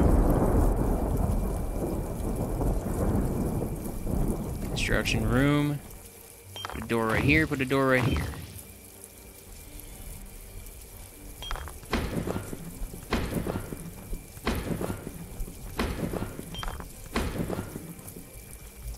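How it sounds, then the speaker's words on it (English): Rain falls steadily in a thunderstorm in MachiaVillain, with a rumbling thunder roll early on and sharp clicks and taps scattered through the later part. Someone talks over the opening stretch. "Oh, the storm's going crazy."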